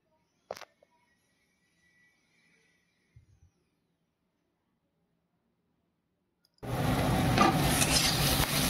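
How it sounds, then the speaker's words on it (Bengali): Soaked, drained soybean chunks hit a hot pan. After several seconds of near silence with a couple of faint clicks, a loud, steady sizzle of frying suddenly begins and continues to the end. "সয়াবিনটাও হালকা করে ভেজে নেব"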